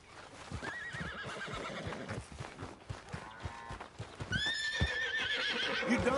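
A horse whinnies loudly twice, high and wavering, over clattering hooves and thumping movement nearby.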